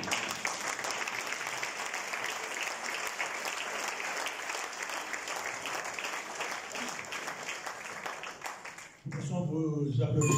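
Applause from the audience at a book launch in Mauritius, a steady crowd clapping for about nine seconds before it cuts off abruptly and a voice begins speaking.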